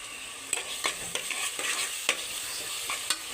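Masala with coconut powder being stirred in a pan, a spoon scraping in regular strokes about every half second over a soft, continuous sizzle.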